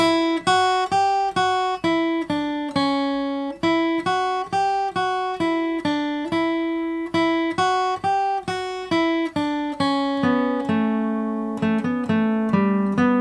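Fiddle tune Old Joe Clark played on guitar: a steady, even run of clear plucked notes at a moderate practice tempo, close and alone with no talking.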